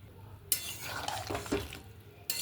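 Ridge gourd cooks in a pan with a little water added, and a spoon stirs and scrapes it in one continuous stretch of close, soft rustling and clinking, followed by quieter background, with no voices.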